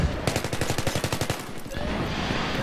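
Rapid bursts of assault rifle fire in Battlefield 3 ring out as a fast run of sharp, evenly spaced shots, then break off into a steady rumbling battle ambience.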